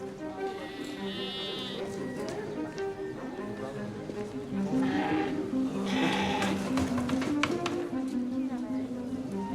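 Sheep bleat on a farm, several calls rising over a background of livestock and buzzing insects, with a voice speaking throughout.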